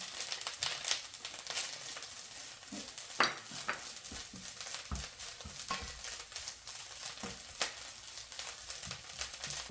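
Ham and dried shiitake mushrooms stir-frying in a pan with little oil, a soft continuous sizzle broken by scraping and tapping of a utensil, close and quiet.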